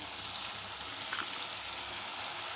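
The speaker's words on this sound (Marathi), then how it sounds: "छान असे तळून घेऊया खुशखुशीत" Potato shev, Haldiram-style aloo bhujia, fries in hot oil with a loud, steady, close-up hiss and sizzle that runs without a break.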